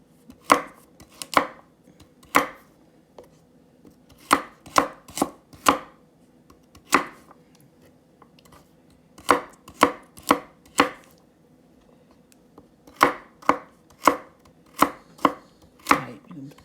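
Carrots chopped with a knife on a cutting board in a home kitchen: sharp, close knife strikes in quick bursts of three to five, separated by short pauses, with no talk over them.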